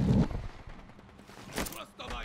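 Gunfire bursts in the video game Call of Duty Warzone Plunder crack out in short sharp bursts, some close and some farther off, with players talking excitedly between the shots.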